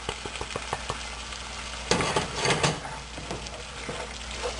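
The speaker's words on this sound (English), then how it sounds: "now I am adding this tomato puree, stirring, and all dry spices" Tomato puree and dry spices such as turmeric, red chili powder and paprika stirred in a pan for kadai chicken, with a spoon scraping in short strokes and a soft sizzle underneath, close and fairly quiet.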